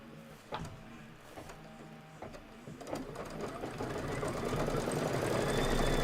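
An embroidery sewing machine runs a quilting stitch, its needle clattering in a steady mechanical rhythm that grows busier and louder toward the end, close by with no talk over it.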